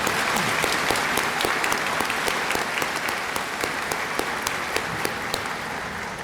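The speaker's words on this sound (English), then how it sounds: "Please join me in a round of applause." Dense, steady applause from a large audience at a 2019 graduation ceremony, filling the hall at an even level from start to finish with no talk over it.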